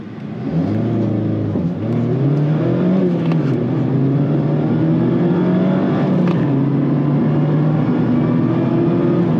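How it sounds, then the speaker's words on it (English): A 2024 Mazda MX-5 Miata engine revs up close by, its pitch climbing and rising through gears in a smooth, strong acceleration that stays loud throughout. "kind of accelerate a little bit, just so you can see what it's like"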